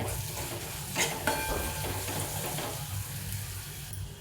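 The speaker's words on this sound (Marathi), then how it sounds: "हळद जराशी हे लाल तिखट हलवून घेते" Turmeric and red chili powder get stirred into a tomato base in a pan for dal tadka, with a soft steady sizzle and a few scraping stirs heard close by.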